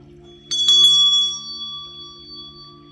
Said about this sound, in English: I'm going to ring my bell.